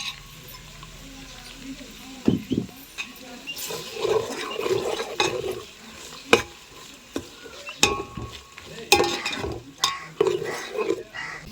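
Cloves, chopped onions and green chillies sizzling in hot oil in a pan during home cooking of a village-style country chicken pulao, with stirring scrapes and clinks of a utensil against the pan, close and moderately loud.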